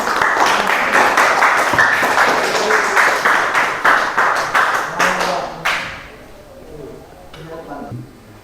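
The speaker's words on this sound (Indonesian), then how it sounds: "Ya, kasih aplaus dulu kelompok 1." Classroom group applaud their presentation group with a burst of dense clapping that holds for several seconds, then thins to scattered claps and fades, with a few voices talking under and after it.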